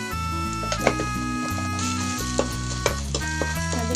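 Chili powder stirred into frying bilimbi pickle in a pan, with a close sizzle under a few sharp spoon scrapes and clinks against the pan, and no talking.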